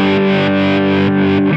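Electric guitar through a Line 6 Helix, with tremolo placed before distortion, sustains a single distorted chord alone. The volume pulses gently and evenly, so the effect sounds subdued rather than dramatic.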